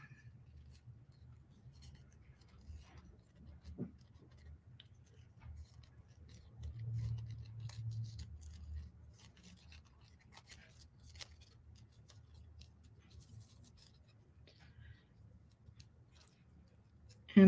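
Scissors making a loose fussy cut around a printed paper napkin, heard as faint sparse snips and light rustles at close range over a low background rumble.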